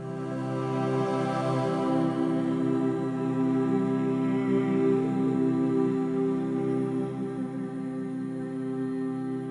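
Layered choir oohs and ahs from a Spitfire Audio all-bloom vocal patch swell as sustained, ethereal chords, held steadily and fairly loud for the whole stretch with no talking.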